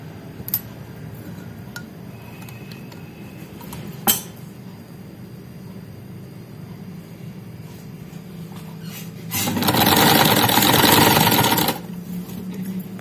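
A sewing machine runs in one steady burst lasting a couple of seconds while stitching a kameez side pocket, preceded by quiet handling clicks and faint background hum.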